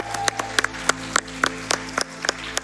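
A small crowd at a Summer Games Done Quick 2023 speedrun event claps steadily, the individual hand claps distinct and evenly spaced over a constant electronic hum, with no voices.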